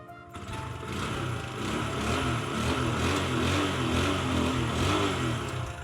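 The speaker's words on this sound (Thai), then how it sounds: "ลูกค้านะมาฟังเสียงท่อเดิมกันหน่อยดีกว่านะฮะ อ่าสตาร์ตติดทีเดียวรู้เรื่องเลยนะครับผม" A 2017 Honda MSX 125 SF mini motorcycle on its stock exhaust starts and settles into a steady, close, throbbing idle with a slight rhythmic wobble.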